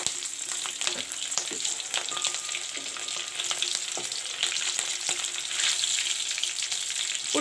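Green chilies and chopped garlic frying in oil, a dense close sizzle with sharp crackles and pops and a few spoon scrapes, steady and fairly loud throughout.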